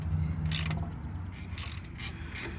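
A ratchet clicks in several quick bursts while the bottom bolt on a Cummins alternator is snugged down under a first-gen truck's hood, fairly close against a low background hum.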